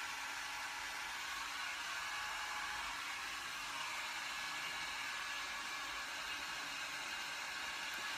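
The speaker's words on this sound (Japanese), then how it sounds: "女の子は髪の毛乾かすの長いの。" A hair dryer blows on hair, giving a steady, close, continuous rushing whoosh that holds at an even level throughout with no pauses and no talk.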